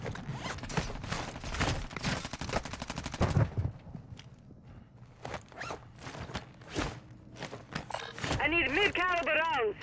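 Rapid automatic gunfire rattles loudly in Call of Duty Warzone, followed by scattered single shots and clicks, with voices speaking near the end.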